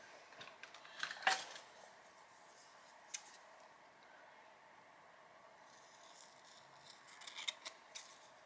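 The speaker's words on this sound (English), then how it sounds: "I'm going to cut this down just a wee bit." Scissors trimming paper for a glue book page, a few faint close snips and crisp paper rustles scattered over quiet room tone, with no talking.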